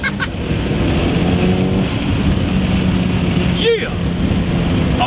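A Mitsubishi Evo fitted with aftermarket cams pulls hard in first gear, a loud rising engine roar heard from the cabin with wind noise and a driver's voice over it, then a quick shift-like dip near the end.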